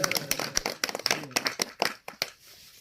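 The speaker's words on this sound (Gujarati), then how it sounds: "જણારામ બાપુ તાળીઓ વધારી નાખો ભાઈ" An audience claps at a devotional satsang gathering, a brisk run of sharp, close hand claps in uneven rhythm that thins out and fades near the end.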